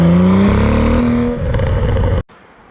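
A BMW 335i engine with a suspected injector fault runs rough up close, its loud droning tone wavering and shifting in pitch before it cuts off abruptly into a quieter background.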